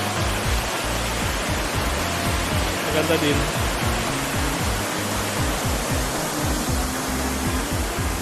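Steady rushing water from a waterfall on a trail at Uvas Canyon, a continuous broadband roar throughout, with a brief voice speaking over it.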